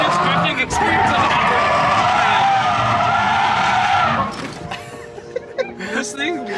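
A car drifts with tires skidding, a loud, sustained screeching roar that holds for about four seconds and then drops away, followed by voices and some laughter.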